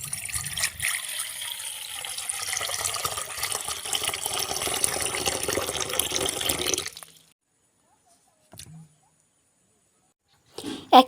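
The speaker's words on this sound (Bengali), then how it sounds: "এবার একটা পাত্রে জল নিয়ে বেগুনটাকে দিয়ে দেবো।" Water pours steadily into a bowl for cut eggplant, a close, hissing run lasting about seven seconds that stops abruptly, followed by a couple of faint knocks and clinks.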